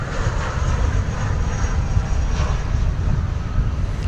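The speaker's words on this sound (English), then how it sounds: "It's American Eagle Flight 4859. That is a Mitsubishi CRJ 701ER." American Eagle Flight 4859, a Mitsubishi CRJ 701ER regional jet at DFW Airport, giving off a steady, loud jet-engine roar with deep rumbling that stays constant throughout.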